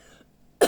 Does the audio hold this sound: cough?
yes